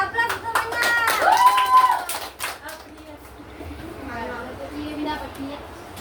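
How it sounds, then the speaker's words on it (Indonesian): Applause at a small Indonesian group gathering, a burst of clapping hands over the first two seconds mixed with voices, then fading into quieter chatter as people talk. "Ya, aplaus semuanya."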